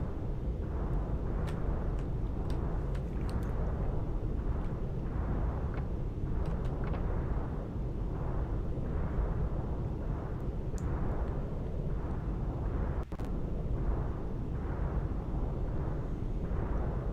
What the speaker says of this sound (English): The castle's exploding.